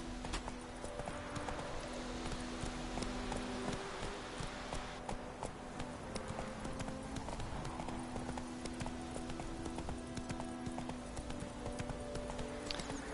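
Roach, Geralt's horse in The Witcher 3, trotting with a steady rhythmic clip-clop of hooves under a faint game ambience, no talk.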